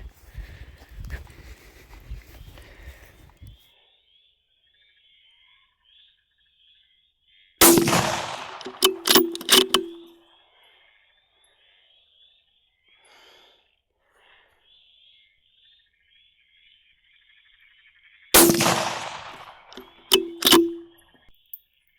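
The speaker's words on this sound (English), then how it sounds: "Well, it's shooting fine at 40 metres." Rifle shots ring out during night fox control over lambing paddocks, two sharp loud cracks several seconds apart, each followed by a short rolling echo and faint rustle, with quiet surroundings between.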